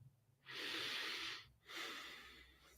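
A person yawns close to the microphone: a long breathy intake followed by a slower airy exhale, quiet and without words.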